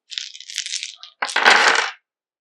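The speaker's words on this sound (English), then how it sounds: "So I'll roll these dice." Dice for the Bushido tabletop game clatter and rattle across a hard surface in two quick close bursts, then stop.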